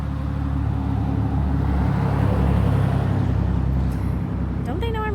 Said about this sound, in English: And that truck is really loud.